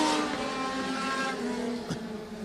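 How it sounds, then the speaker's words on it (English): Race cars roar around a speedway during a heat race, a sustained high engine drone with a louder car sweeping past near the end and no talk. "Glenn Mitchell down the back straightaway to the race lead as he overtakes Weber"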